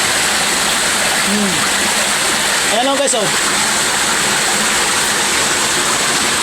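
Water pours steadily over rocks at Uwan-uwanan waterfall, a loud continuous rushing hiss that fills the whole clip, with a couple of short spoken calls over it.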